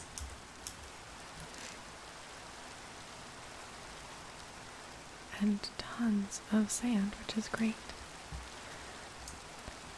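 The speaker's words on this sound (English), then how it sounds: "I think the rain means that we might lose our snowmen." Steady soft rain falls in the Minecraft video game, a constant low hiss running the whole time, with a whispered voice coming in over it partway through.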